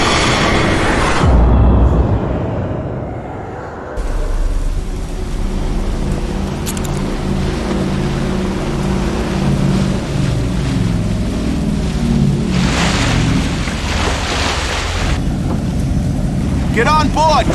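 A steady boat engine drones with water rushing and sloshing around it, constant and fairly loud throughout, in a PS2 horror video game.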